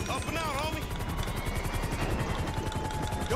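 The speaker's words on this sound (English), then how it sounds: "We got another helicopter." A helicopter flies through a Grand Theft Auto 5 game scene, its steady rotor chop carrying loud and continuous throughout, with some tonal game sounds layered over it.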